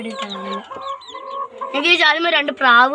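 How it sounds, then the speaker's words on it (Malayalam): Domestic chickens cluck and squawk at close range, a run of short calls that grows louder and busier toward the end, with several birds overlapping. "ഇതാണ് നമ്മുടെ കോഴികൾ"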